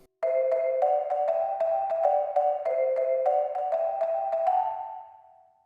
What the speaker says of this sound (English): The marimba.